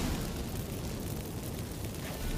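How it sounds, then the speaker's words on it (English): Magic fireworks bursting in The Witcher 3, a continuous roaring, rumbling eruption of explosive noise, steady and fairly muffled from start to finish. "Get ready for some magic fireworks."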